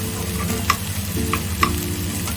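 Mushroom omelette ingredients fry in a pan with a steady sizzle, broken by a few sharp scraping clicks of stirring at regular intervals, close and fairly loud with no talk.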